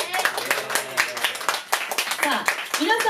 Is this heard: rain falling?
no